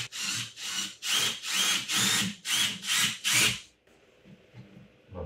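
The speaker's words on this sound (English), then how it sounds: "For toggle bolts, we're gonna make a 1/2 inch hole." A drill bores a half-inch hole in drywall for a toggle bolt. About eight loud, rasping bursts of grinding come close up in a steady rhythm, followed by faint scraping.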